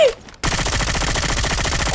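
Video game shotgun fire erupts after a brief quiet gap into a dense, rapid string of loud blasts that continue without pause, harsh and close, with no talking.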